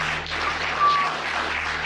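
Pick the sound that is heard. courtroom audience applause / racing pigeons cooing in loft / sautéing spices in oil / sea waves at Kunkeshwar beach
courtroom audience applause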